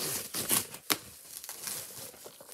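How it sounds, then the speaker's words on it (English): Hands rip open a luxury gift bag without scissors, giving bursts of crinkling and tearing paper in quick uneven strokes, close and moderately loud, with no talking. "I can't find the scissors, so I'm just gonna rip this"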